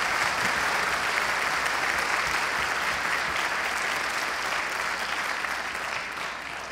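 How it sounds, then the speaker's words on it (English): An audience at a Central Ohio Symphony concert applauds in a dense, sustained wash of clapping that tapers slightly toward the end. "You should clap for that."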